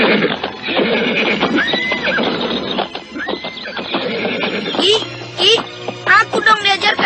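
A horse neighs and whinnies repeatedly, loud and close, over steady clip-clop hooves and background chatter, with several sharp neighs near the end while people talk nearby.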